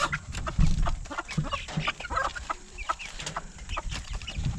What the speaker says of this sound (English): Now I think maybe 2 roosters and 2 hens.